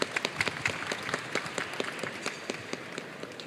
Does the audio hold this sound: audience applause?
yes